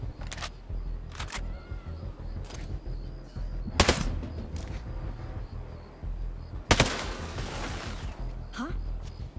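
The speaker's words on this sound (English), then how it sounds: "Shooting." Gunfire in the video game Ghost Recon Breakpoint: a few sharp, loud shots spaced several seconds apart over a steady low background rumble, with faint talk in between.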